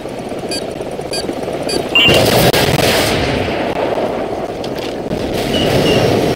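Loud, dense gunfire in the video game Call of Duty Modern Warfare rattles on almost without a break, with a heavy burst near the start and sustained rumbling fire after it.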